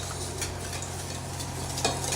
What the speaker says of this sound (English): keep this moving around with your whisk until it becomes really nice and thick